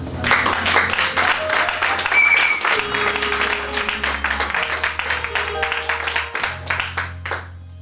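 A church congregation applauds, dense clapping from many hands filling the room steadily before fading toward the end, with some voices mixed in.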